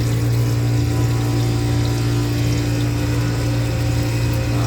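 Water pump of an ice machine running, a steady loud hum with strong rushing water flowing continuously, close and unchanging.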